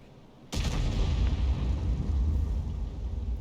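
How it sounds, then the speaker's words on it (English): A Type 4 tank taking a hit from a high-caliber shell in World of Tanks, a sudden loud boom followed by a sustained heavy rumbling roar that fills the rest of the moment. "Type 4 just took a hit."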